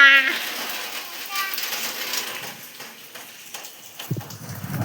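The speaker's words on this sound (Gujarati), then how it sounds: "વરસાદ જુઓ એ ચાલુ જ છે ધીરે ધીરે ધીરે ધીરે." Steady rain falls in a village, a soft continuous hiss of drops through the whole stretch, with a few nearby voices and small knocks on top.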